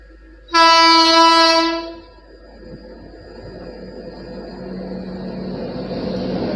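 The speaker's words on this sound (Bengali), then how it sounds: "সামনে থেকে আসে double two four zero three new Delhi superfast express" A loud, long train horn blares, then the rushing rumble of the 22403 New Delhi Superfast Express grows louder as it speeds past.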